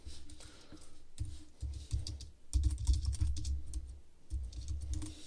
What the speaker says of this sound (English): It's typing over here to the side.